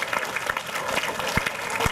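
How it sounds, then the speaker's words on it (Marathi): Audience applause at a school prize-giving ceremony, a short burst of scattered hand claps from a crowd, moderately near and fairly loud. "थंडी आहे, टाळ्या वाजवा"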